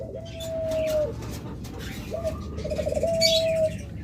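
Doves kept for sale, some with chicks, give repeated soft cooing calls in short drawn-out phrases, with light chirps and bird chatter nearby.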